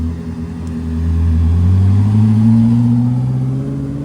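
A Koenigsegg Jesko supercar drives past at Monterey Car Week, its engine note rising and swelling close by, then easing off as it pulls in to park.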